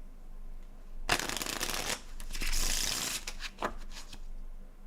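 Playing cards are shuffled by hand nearby, giving a quick riffling flutter, then a longer burst of riffling with sharp snaps and taps, fairly quiet overall.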